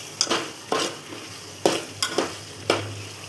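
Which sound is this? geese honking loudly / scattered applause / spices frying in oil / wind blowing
spices frying in oil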